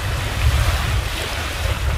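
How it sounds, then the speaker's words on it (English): A boat runs fast along the coast near Caloundra, with a loud, steady rush of water and wind streaming past and no voices. "As you can see, the water's going by pretty quick."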